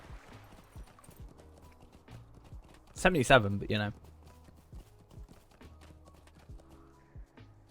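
Horse hooves clip-clopping at an even walking pace in The Lord of the Rings Online, soft and steady throughout, with a loud neigh in the middle while someone talks.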